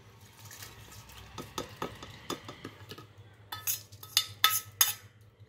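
A cooled tempering being stirred into raw mango pickle with a spoon, irregular scraping and clinking strokes that grow louder toward the end, with no talking.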